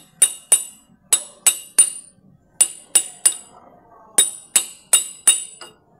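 Metal installer tool hammered onto a Toyota Hiace axle oil seal, about a dozen sharp ringing strikes in quick groups of two or three, loud and close.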